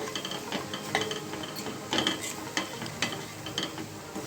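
A spoon or spatula is scraping and stirring crab curry masala in a pan, giving a steady run of soft clinks and scrapes with a few sharper knocks against the pan. The sounds are close and moderately quiet, and no one speaks.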